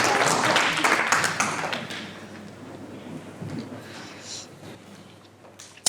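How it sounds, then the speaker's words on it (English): Audience applause at a child protection conference in Wales, a broad wash of clapping that is loudest at the start and then thins and fades over several seconds. "give Maggie a round of applause, please, guys"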